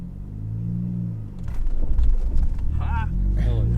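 A 2018 Ford Focus ST idles with a low hum, then its engine revs up and accelerates with a loud, rising roar while a person speaks over it.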